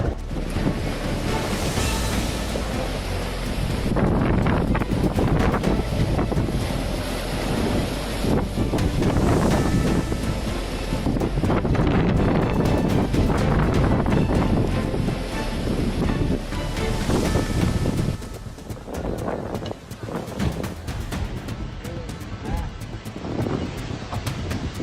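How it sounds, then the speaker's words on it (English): Storm waves pound the shore in Greece, a heavy, continuous roar of surf and wind buffeting the microphone as raging water smashes boats against the coast, with no clear voices. "a storm brought in raging waves that smashed boats against the shore"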